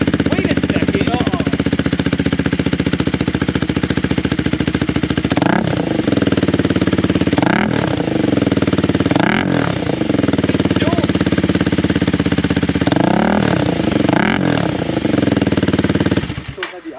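A Honda Rebel motorcycle with a Coffman's aftermarket exhaust rides through a parking lot. Its loud, steady engine roar rises and falls through several revving surges as it passes close by, and voices are heard over it.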